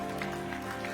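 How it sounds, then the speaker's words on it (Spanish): A church congregation applauds loudly over sustained background music, the clapping forming a steady hiss under the musical tones. "aplauda fuerte"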